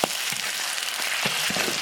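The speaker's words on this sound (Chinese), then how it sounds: "锅里倒油，下入葱姜蒜瓣，来一勺辣子酱，" Scallion, ginger, garlic cloves and a spoonful of chili paste frying in hot oil in a wok for homemade grilled fish, a steady close sizzle with a few soft stirring knocks.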